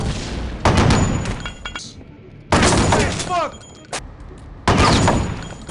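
A heavy cannon weapon fires in the crime shooter game Kingpin: Life of Crime, three loud booming blasts spaced about two seconds apart, each trailing off in a harsh rumbling decay.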